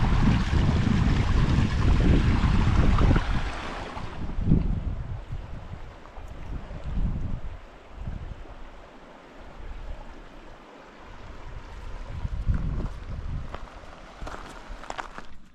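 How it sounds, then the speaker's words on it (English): Gusty wind in Sedona, Arizona buffets the microphone with heavy low rumbling, strongest at the start, then easing into softer, uneven gusts. "It's getting pretty windy."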